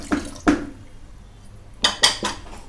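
Mutton stock poured from a metal vessel into milk gravy for Lucknow biryani, heard as two short clanking scrapes of cookware, a pause, then three more bright clinks and splashes, close and alone.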